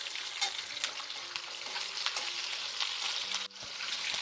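Vegetables for a vegetable biryani fry in oil in a pan: onion, green chili, potato, cauliflower and radish. A continuous loud sizzle plays with stirring scrapes and a brief knock near the end.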